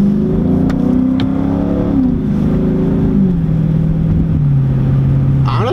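A Dodge muscle car pulls away from a stop on a snowy road, its engine loud and close with a steady drone that shifts pitch as it accelerates, heard from inside the car, with no talk.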